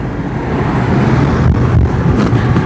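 A car drives along Road 60 through Palestinian Authority towns, with a loud, steady engine and road rumble close by.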